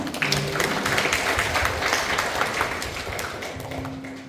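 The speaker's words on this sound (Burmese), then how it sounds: "လက်ခုပ်တီးပေးကြရအောင်" Wedding guests clap together in a steady patter of applause that fades slightly toward the end, with a faint voice underneath.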